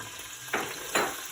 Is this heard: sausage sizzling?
yes